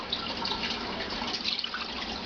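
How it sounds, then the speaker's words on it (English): Distilled water poured from a cup into a cooking pot, a steady close splashing trickle lasting a couple of seconds without talk. "I'm going to pour right in there."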